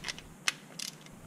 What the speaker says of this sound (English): I did do a couple of passes with the torque wrench to allow for gasket compression and sealer squeeze.